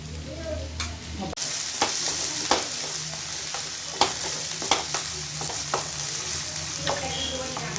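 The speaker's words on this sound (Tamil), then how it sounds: "வெங்காயம் வதங்கி வந்ததுக்கப்புறம் ஒரே ஒரு தக்காளி எடுத்து பொடியாக கட் பண்ணி வச்சுருக்கேன் அந்த தக்காளி கூட சேர்த்துக்கலாம்" Onions and finely chopped tomato sautéing in a pan for spicy pepper chicken, with a steady sizzle and repeated sharp clinks of a spoon stirring against the pan, close and alone with no talk.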